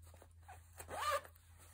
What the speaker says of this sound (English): There's the zipper.